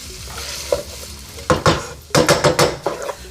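80-20 ground beef fries in a pan while a utensil breaks it up, giving a steady close sizzle broken by repeated scraping, stirring clatters and pan knocks in quick bursts.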